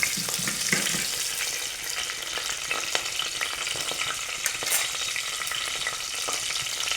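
Mustard seeds and fenugreek fry in hot oil for a meat curry, giving a loud, steady sizzle broken by sharp pops and crackles, with occasional stirring.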